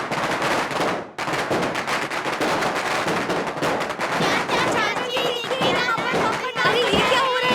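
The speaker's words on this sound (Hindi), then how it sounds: "ये पटाखा का आवाज कैसा है?" Firecrackers burst in a dense, rapid crackling barrage during a Hindi-dubbed movie scene with Prabhas. The popping is loud and continuous, with a brief dip near the start, and voices and music sit underneath.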